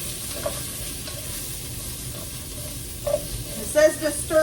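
Sliced onions sizzle and fry in a pan while being stirred, a steady close hiss broken by a few scraping clinks toward the end.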